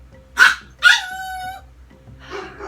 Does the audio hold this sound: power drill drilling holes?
no